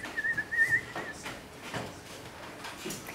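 Birdsong with a short bright whistled phrase near the start, then faint scattered chirps over quiet background in a calm setting.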